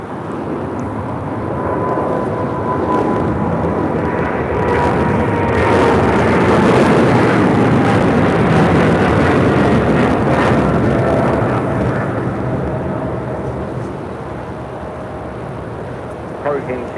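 Cargo King 222, a heavy cargo jet bound for Shanghai, takes off at LAX: a loud, broad engine roar swells, holds and slowly fades, with a faint whine running through it and voices beneath.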